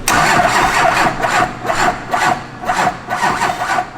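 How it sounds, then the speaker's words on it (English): A pump engine cranks and catches, running loud and close with a steady pulsing, rhythmic chug that repeats roughly twice a second; no voices. "Get the pump fired up."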